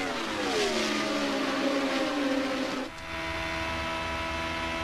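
IndyCar race cars scream past at speed on the Las Vegas oval, a loud high-pitched engine whine sweeping down in pitch as one passes, then a steadier droning engine note continuing without voices.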